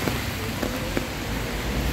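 Steady broadband patter of morning rain in Italy, a continuous even hiss with a few faint drop-like ticks, moderately loud and unbroken, no voices.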